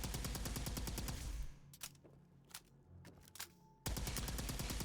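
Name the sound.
gamma wave emitter firing in Fallout 76 video game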